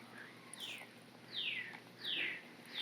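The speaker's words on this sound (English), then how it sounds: "Listen to the bird." A bird repeats a descending, whistled chirp three times at a steady pace, faint and somewhat distant over a quiet outdoor resort background.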